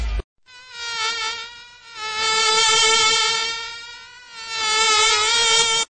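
A fly buzzes loudly and close, in a continuous high whine that swells and fades as it moves around, heard alone with no talk.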